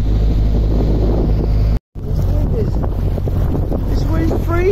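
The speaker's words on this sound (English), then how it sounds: "Oh, this wind's bitter." Bitter cold wind blowing across an open river mooring on the Great Ouse in October, a loud, roaring buffet against the microphone that cuts out briefly, with faint voices underneath.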